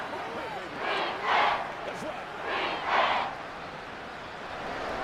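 A simulated stadium crowd in the Madden 24 football game, Eagles at Chiefs on Monday Night Football, roars in two swelling waves of cheering, with a broadcast commentator's voice running underneath.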